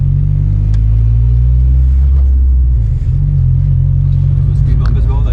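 A turbocharged and supercharged Mk2 Golf rolls over a speed bump in third gear, its engine a loud, steady low rumble that dips briefly mid-way before carrying on, with a voice speaking over it.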